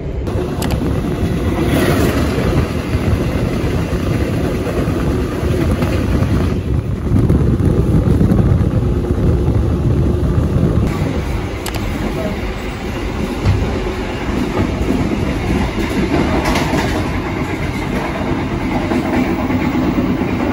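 A long passenger train, the Jayakarta Premium in Indonesia near Wates station, rumbles steadily along the rails for a long stretch, loud and continuous, with rattling carriage noise and rushing wind.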